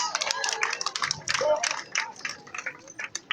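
An audience claps for a young man at a magic show, a dense patter of applause running throughout, mixed with crowd voices and chatter.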